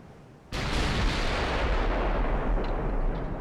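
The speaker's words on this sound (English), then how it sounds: "Immediately our rear guns are firing." Rear main guns of a battleship fire in the naval game Ultimate Admiral: Dreadnoughts: one sudden loud blast that rolls into a long, heavy rumbling decay, with no voices.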